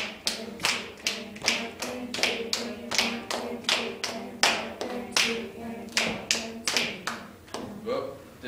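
A group claps together in a steady, regular beat, some twenty crisp claps evenly spaced, with voices faintly present beneath.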